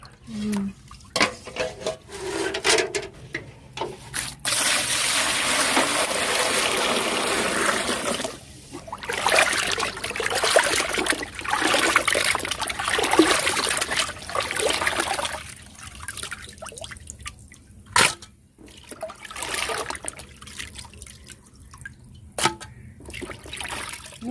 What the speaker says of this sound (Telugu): ఇవన్నీ అయితే వంపేసుకుంటున్నాను చెమ్మ లేకుండా